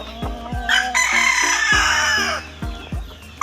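A tornado hatch gamefowl rooster crows loud and close, a single long cock-a-doodle-doo among a few sharp knocks and clucks, with no talk over it.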